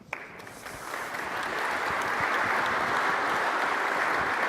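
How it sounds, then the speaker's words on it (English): Conference audience applauding, a few scattered claps at first swelling into a steady, full round of clapping that holds to the end. "please give a big round of applause for Chris to come and talk to us about his solution."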